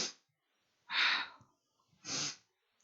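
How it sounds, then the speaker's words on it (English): Forceful Kundalini yoga blast breathing comes as three sharp, close breaths through the nose, each a short hissing rush separated by brief pauses. "Powerful breathing will get you through."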